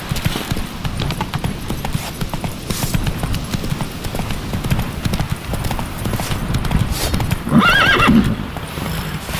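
A horse gallops in The Witcher 3 video game, its hooves clip-clopping in a steady, loud rhythm before a sharp, close neigh near the end, with no speech.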